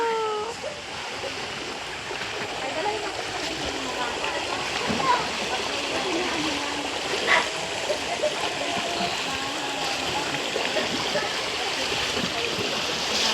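A cold mountain stream at Capuy rushes and splashes steadily over rocks, a continuous loud flow close by with faint voices mixed underneath.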